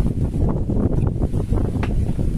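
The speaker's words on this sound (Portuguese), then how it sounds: "Começou a ventar agora, né, rapaz?" Steady low rumbling wind buffeting an outdoor microphone, loud and continuous with gusty fluctuations, no clear talking.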